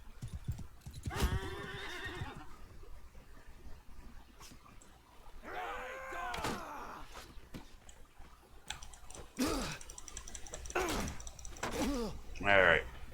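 Horse hooves clip-clop in Mount and Blade 2 Bannerlord gameplay, an irregular clatter with several whinnies and neighs rising over it, plus clicking sounds and faint background game noise.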